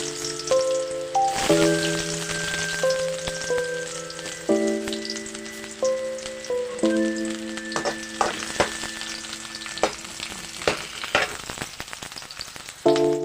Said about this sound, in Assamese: তেলখিনি গৰম হ'ল এতিয়া মই পিঁয়াজ দি দিছোঁ